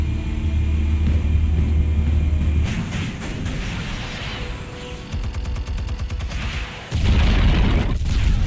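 Explosives go off in Batman: The Telltale Series, with loud booming blasts and rumbling over a dense, rattling game soundtrack, two heavy impacts a few seconds apart.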